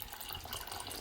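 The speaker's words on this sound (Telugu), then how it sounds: "ఇప్పుడైతే చక్కగా వాటర్ వేసేసుకుంటాము" Water pours steadily into a pot of cooked moong dal, a soft, continuous splashing gush heard close and alone for about a second.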